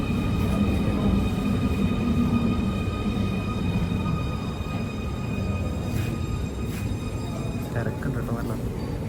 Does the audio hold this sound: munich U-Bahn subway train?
yes